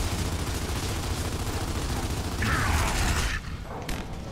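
A weapon reload in Gears of War: Judgment plays out as a sustained mechanical rattle and clank under dense gunfire, ending in a sharp metallic click near the close.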